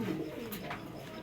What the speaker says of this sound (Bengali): দর্শক এই একটা জেনসন ব্লাড লাইনের কবুতর